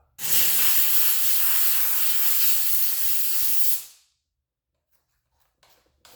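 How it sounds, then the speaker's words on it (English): A loud, steady hiss of a steam cleaner blasting on a cast aluminum engine part for a few seconds, then cutting off abruptly, leaving near silence. "then we'll steam that and see what happens"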